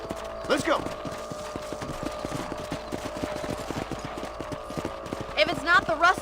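Horse hooves gallop in Red Dead Redemption, a steady rapid clip-clop running throughout, with voices talking briefly near the start and end.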